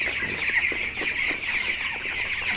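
Twenty-two-day-old underweight broiler chickens on a poultry farm keep up a continuous low clucking and chirping chorus from many birds nearby, a steady flock murmur without any speech.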